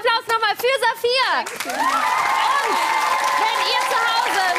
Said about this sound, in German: Also riesengroßen Applaus nochmal für Saphir